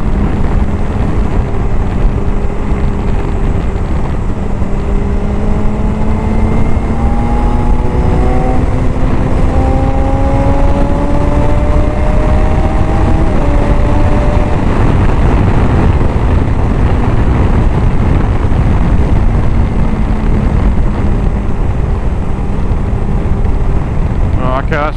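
A BMW S1000XR motorcycle engine climbs steadily in pitch as it accelerates past 8,000 RPM, its rising whine heard from the rider's position beneath constant heavy wind roar.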